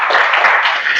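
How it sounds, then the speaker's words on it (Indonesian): Students in a teacher-training class clapping together, a dense, steady patter of hands close by filling the short moment without voices. "tepuk tangan"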